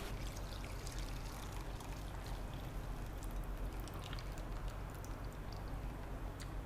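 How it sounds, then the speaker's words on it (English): Water strained from cooked orange peel and mint leaves pours and trickles steadily at close range, a continuous splashing stream with no talking. "strain and take just the water"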